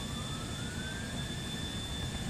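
Police helicopter in the GTA IV LCPDFR mod gives a steady, continuous turbine whine with a rising high tone over a low rumble, holding at a moderate, even level throughout with no voices.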